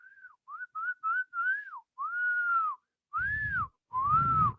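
A person whistles a string of short, rising-and-falling notes, then a few longer sustained ones, with breathy puffs of air under the last notes.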